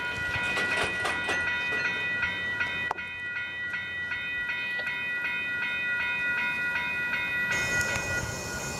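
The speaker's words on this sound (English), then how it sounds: "This train stopped." A freight train rolls along the rails in northeast Arkansas, with steady wheel clatter and squealing tones, a sharp clank about a third of the way in, and a brighter hiss toward the end.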